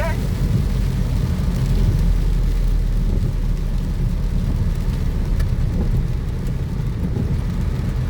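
Heavy rain pours steadily on surfaces while low thunder rumbles underneath, a thick, constant wash of sound lasting several seconds.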